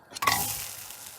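An oatmeal pancake is flipped in a frying pan with a soft slap, then a bright sizzle rises and fades away over about a second.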